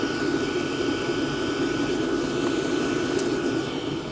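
Diesel parking heater running with its intake filter pulled off, giving a steady, close, continuous roar and whoosh with a bright, hissy edge and no pauses throughout.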